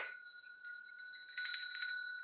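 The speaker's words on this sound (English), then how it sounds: "Let me ring some bells, too." Small bells ring in a series of light, bright metallic tones, close by and fairly quiet, with clustered strikes that grow a little denser and louder toward the middle before settling into a sustained ring.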